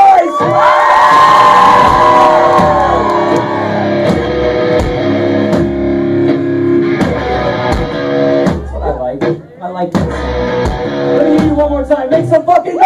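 Concert crowd at a show cheering and shouting loudly and continuously, with the band's sustained tones ringing beneath the roar.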